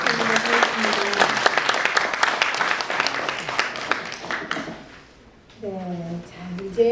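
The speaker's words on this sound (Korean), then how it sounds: "박수 한번 부탁드립니다" Audience applause at a book launch event, a dense burst of many hands clapping close by that fades out after about four seconds, followed by a speaker resuming.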